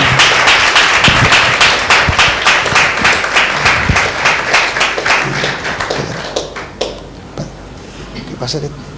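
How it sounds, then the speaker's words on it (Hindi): A church congregation claps loudly during a Sunday meeting as a pastor is welcomed, a dense burst of many hands that carries for most of the stretch and then thins out into a few scattered claps near the end. "एक जोरदार ताली देंगे परमेश्वर के नाम की महिमा के लिए"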